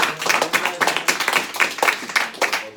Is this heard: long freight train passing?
no